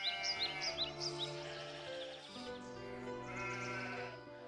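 Sheep bleat repeatedly by a well, high wavering calls layered over a steady harmonic drone in a scripted Bible story scene.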